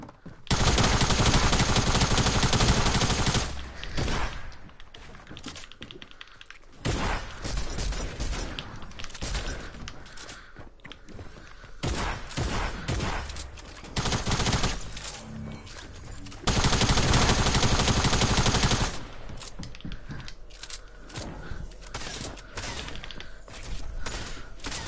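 Video game gunfire, loud bursts of automatic weapon fire in several long stretches broken by brief quieter gaps, near and harsh.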